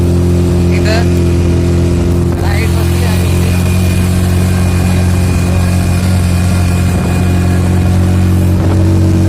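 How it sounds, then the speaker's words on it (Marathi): A car engine hums loudly and steadily from inside the moving car on a trip to Alibag, a constant low drone with a few faint rattles, with no clear talking. "आर्य गाडी चालवते"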